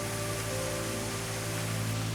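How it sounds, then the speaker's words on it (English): Steady rain falls near a waterfall on Madeira, a dense, unbroken hiss heard alone for the whole stretch. "I have to be a bit careful because it's raining"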